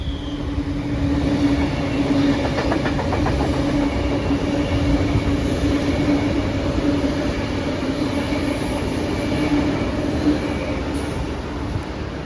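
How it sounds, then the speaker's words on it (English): A Sydney Trains B set electric passenger train passes close by at Eastwood with a loud, steady rolling roar, a sustained motor hum and faint rhythmic wheel clatter, with no talking. "Here comes the only Sydney Trains B set that we will be seeing for this video."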